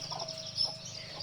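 A mother hen on a farm clucks softly near her chicks, with low, steady murmuring clucks continuing through the short moment. Faint background noise sits beneath.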